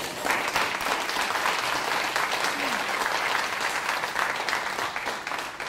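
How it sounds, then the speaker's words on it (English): An audience applauds at an education reform event, a dense, steady clatter of many hands that carries on for several seconds without pause. "Can we give her a round of applause?"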